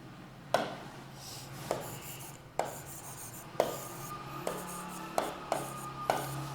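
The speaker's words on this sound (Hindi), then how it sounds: "एक पॉइंट और लिखता हूं" Chalk or marker strokes on a board during a Hindi grammar lesson, several sharp taps and short scratchy strokes spaced irregularly, close and fairly quiet over a low room hum, with no talking.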